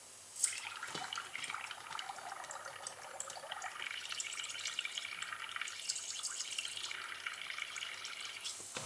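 Small toy air engine racer held in water to find a leak, giving a faint steady trickling and bubbling splash close by after an initial plunge.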